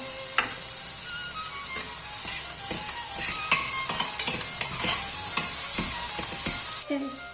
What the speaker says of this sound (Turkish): tencereme şöyle azıcık bir kıyma alıyorum yemeğime lezzet katsın diye.